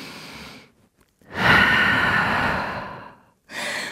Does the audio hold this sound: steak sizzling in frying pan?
no